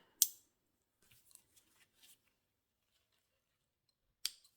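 Scissors snip cross-stitch embroidery thread: one sharp, close cut, a few soft small clicks of handling, then a second crisp snip, all in a quiet room without talk.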